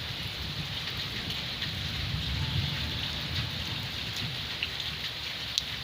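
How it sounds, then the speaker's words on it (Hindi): Heavy rain pours steadily, a dense continuous hiss with scattered drop impacts, no voices, moderately quiet and even throughout. "तो बारिश अभी ज़्यादा स्पीड से हो गई है, होना शुरू हो गई है।"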